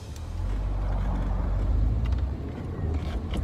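Audi TT, recently fitted with a new crankshaft sensor and still cold, running steadily on a short test drive; a continuous low engine and road rumble holds near and fairly loud throughout, with no talk.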